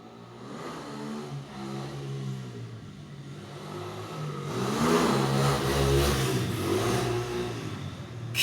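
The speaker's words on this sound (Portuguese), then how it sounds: "O cara passou empinando a moto, velho." A motorcycle passes along a street while its rider pulls a wheelie, the engine revving and growing louder midway, then carrying on fairly close by.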